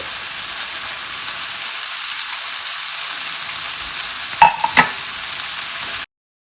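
Chicken and sautéed vegetables for chicken fajitas sizzle steadily in a hot pan, a loud, continuous frying hiss with a couple of brief clatters of stirring near the end, then sudden silence.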